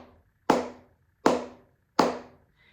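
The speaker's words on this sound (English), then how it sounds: "It's a muted sound that goes like this" Three flamenco palmas sordas, muted cupped-hand claps, fall in an even rhythm, each a soft, dull close pop with a short decay and silence between.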